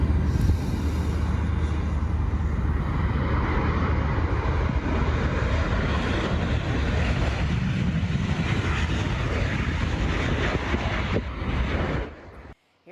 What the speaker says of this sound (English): Here you see planes taking off the runway at Albany International Airport yesterday